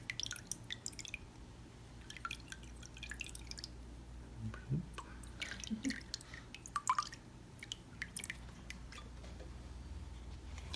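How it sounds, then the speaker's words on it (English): Hydrogen peroxide from the grocery store is poured straight onto a sun print, giving scattered soft drips and small liquid splashes, quiet and close, over a faint steady background hum. "It's just regular hydrogen peroxide, nothing Yep. special there. From the grocery store. And you just pour it on."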